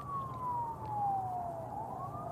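Distant emergency siren wailing with a slowly falling then rising pitch, faint against a low background hum, with no talk over it.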